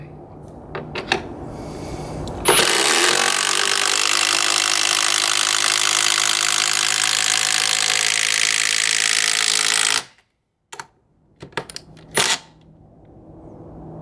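A Metabo HPT (Hitachi) triple hammer impact driver fires in one loud, continuous burst of rapid hammering for several seconds, then stops abruptly, followed by a few sharp knocks and clatters nearby.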